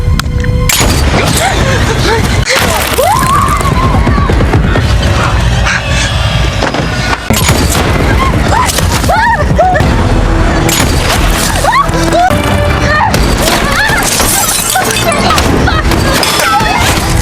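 Sharp gunshots crack out repeatedly amid a dense, loud mix of music and action sound effects in the game Ready or Not, with bursts spread across the whole scene.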